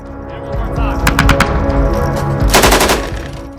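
Machine gun firing, heard as a few sharp close bursts of rapid shots followed by a longer dense burst, loud over a steady low background.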